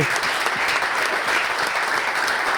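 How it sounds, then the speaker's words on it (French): Dense, steady applause from a live comedy-show audience in Baie-Comeau fills the whole stretch at an even level, a continuous wash of many hands clapping together with no voice standing out. "Je veux qu'on donne pas mal d'applaudissements à JP de Sept-Îles qui est venu filmer le pod"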